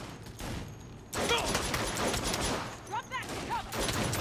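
Saints Row gunfire cracks out in dense, rapid volleys that start after a brief lull and keep going loud and close, while a voice talks over the shooting.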